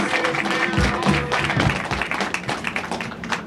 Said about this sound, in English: please give Mayor John E. McCormack a big round of applause